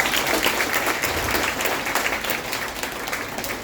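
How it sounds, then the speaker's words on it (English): A room of listeners gives a lively round of applause for Dr. David Silverman, close and even-paced claps filling the space with no speech over it. "well again, a round of applause to Dr. Silverman"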